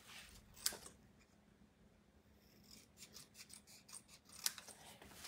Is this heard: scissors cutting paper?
yes